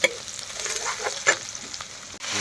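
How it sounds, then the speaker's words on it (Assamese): Malbhog greens frying in hot oil in a pan over ginger, garlic and onion, giving a steady close sizzle with a brief louder hiss partway through, no talking. "শাকটো আগতে ভাজি কৰি লওঁ।"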